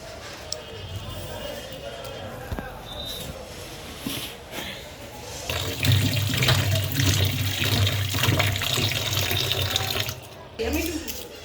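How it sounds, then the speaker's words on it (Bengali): Tap water running over peeled onions being washed in a sink, a steady splashing stream that grows louder midway, with handling clatter and a voice talking over it. "প্রথমে পেঁয়াজগুলো ছোলা হয়ে গেলে ভালো করে ধুয়ে কুচি কুচি করে নেবে।"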